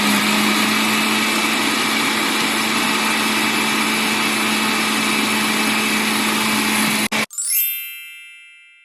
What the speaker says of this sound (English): And I am just going to blend.